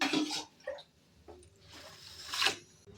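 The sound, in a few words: washing rice in water for chicken pulao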